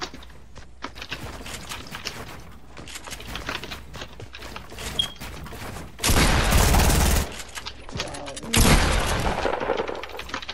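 Gunfire in the Fortnite video game during a duos match, with scattered crackling shots and two loud bursts of fire, the second close and heavy, alone without talk.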